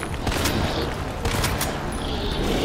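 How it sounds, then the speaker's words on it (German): Rapid bursts of gunfire from the player shooting in Resident Evil 2 Remake, Leon's story, crackle densely and loudly with booming impacts over a continuous noisy game backdrop. "jetzt kann ich irgendwie darauf ballern"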